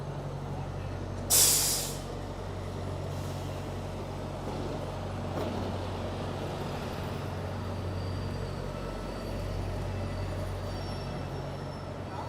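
London buses rumble past on a busy night street, with a loud hiss from an air-brake release near the start and constant low engine and traffic drone throughout.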